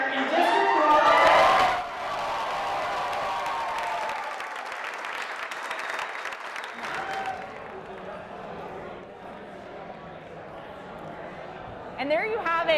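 An election-night crowd cheers and applauds a winning county district candidate, loud and sustained at first, then settling into a broad roar that carries on under a reporter's talk.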